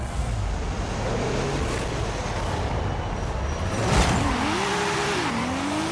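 Audi TT RS Coupé engine in Forza Horizon 5 racing, a steady loud drone with rising and falling gear-shift tones and a brief burst near the end, no talk.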